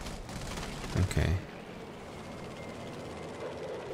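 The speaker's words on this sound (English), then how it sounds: "Oh, there's a plane incoming." Steady, loud engine roar of a plane approaching in a video game, one brief sharper surge near the start, then a continuous broad drone with gunfire-like game noise underneath.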